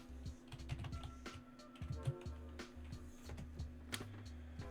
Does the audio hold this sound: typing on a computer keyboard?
yes